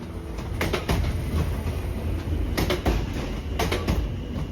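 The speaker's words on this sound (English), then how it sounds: "This train is empty" A passenger train runs along the track with a continuous rumble and rattle, its carriage empty, with periodic clattering bursts as the wheels pass over rail joints.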